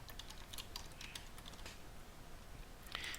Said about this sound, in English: I'm going to type this name